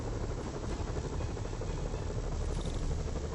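Helicopters in Spider-Man PS4 fly nearby, a steady loud rotor thrum and buzzing engine drone running without a break throughout.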